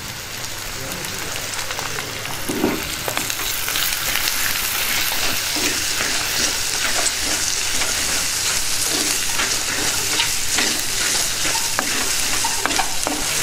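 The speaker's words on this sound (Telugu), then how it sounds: "ఉల్లిపాయలు వేగడానికి 2 నిమిషాలు టైం పడుతుంది." Chopped onions with turmeric and salt sizzle and fry in a pan for raw mango dal, a steady dense crackle with occasional stirring scrapes throughout.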